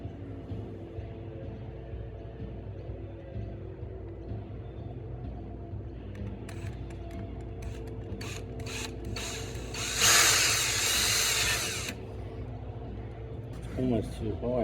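A person talks while a small drill briefly bores a slot in a metal 2SS grille badge, giving a short, loud whirring grind of about two seconds, with light handling noises before and after.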